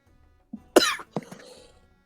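A man coughs in a short fit: a couple of sharp, harsh coughs followed by a rougher throaty one, close up and otherwise quiet between bursts.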